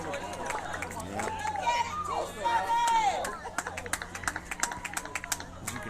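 Baseball game crowd reacting after a hard-hit ball, with cheering and shouts swelling, then scattered claps and calls from spectators as an announcer talks over the noise.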